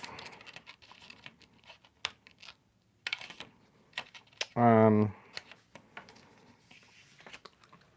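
Scissors trim a craft piece for a holiday shaker with a scattering of light, quick snips, faint and close, interrupted by one brief loud tone midway.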